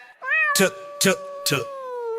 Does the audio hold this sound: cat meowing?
yes